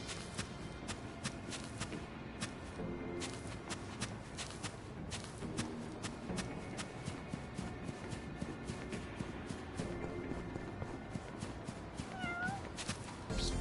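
Yakuza: Like a Dragon video game audio with a cat meowing amid busy game sounds, clicks and light footsteps, a short meow standing out near the end over a faint steady background.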